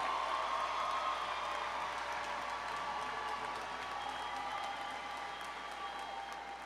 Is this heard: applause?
yes